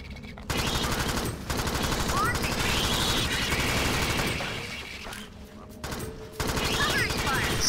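Minigun fire in the video game Alien Swarm, a dense, continuous roar of rapid shots that runs nearly the whole time, with brief gaps where the firing stops and then starts again.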